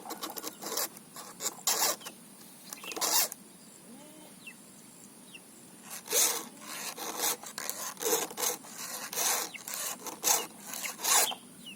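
A file rasps across the teeth of a new chainsaw chain in bursts of quick repeated strokes, with short pauses between each group of teeth. Close and fairly quiet, with no talking.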